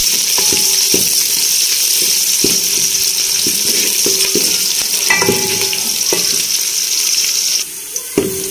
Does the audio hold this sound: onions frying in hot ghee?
yes